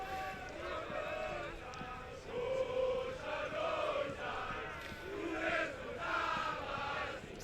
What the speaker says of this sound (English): The crowd keeping warm with a bit of a sing-song.